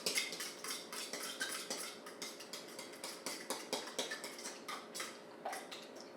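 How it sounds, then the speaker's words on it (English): A whisk beats protein pancake batter in a bowl with fast, steady rhythmic clinks and scrapes, close and fairly quiet, with no talking. "I can't whisk with my left that well."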